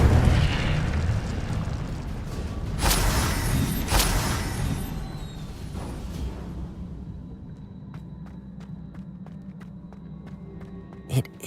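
An Incendio fire spell cast in Hogwarts Legacy: a loud, whooshing burst of flame with two heavier booming surges, fading into a quieter crackling tail, then a brief sharp pop near the end.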